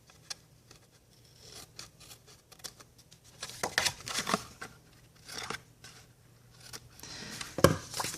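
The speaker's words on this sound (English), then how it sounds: "I see a little bit of overhang I'm going to trim off here" Paper label overhang on a handmade card trimmed with scissors, a few quiet snips and rubbing sounds scattered through near silence, with a sharper cut near the end.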